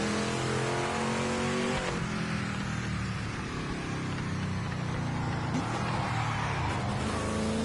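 A race car in the GT Icons racing video game roars at full throttle, its loud, dense engine note stepping through pitch drops as it downshifts, close and continuous.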